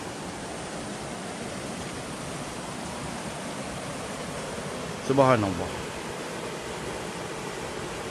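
A river flows beside Chalet Pak Hashim at Pos Lenjang, a steady broad rushing wash throughout, with a single brief voice rising over it midway.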